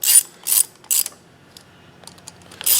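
A ratchet tightening small bolts on an old Denso starter solenoid, several quick bursts of sharp clicking separated by brief pauses, close and clear with no talking.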